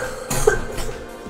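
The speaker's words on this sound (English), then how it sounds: "don't cough on the echo" A single close, harsh cough or throat-clearing bursts out loudly and fades, heard during a Mario Kart 8 gaming session.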